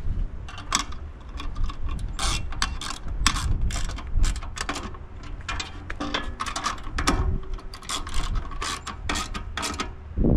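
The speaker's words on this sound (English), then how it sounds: "using a 1/2", let's tighten it down" A 1/2 inch ratchet tightening a bolt on a Sea-Doo rack clicks rapidly and repeatedly in close, steady strokes, with no speech over it.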